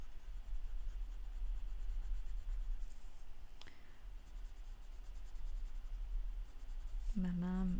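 A pencil or marker rubs across paper while coloring a paper rabbit drawing, a soft, steady scratchy stroking held close and quiet, with a short voice at the end.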